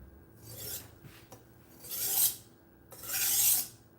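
A budget knife blade is drawn across a sharpening stone in three slow, even rasping strokes, close and clear with short pauses between them.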